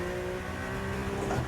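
A Porsche 911 engine revs hard in the EA Sports WRC game on snow and ice, a loud continuous rasp rising in pitch over a short burst.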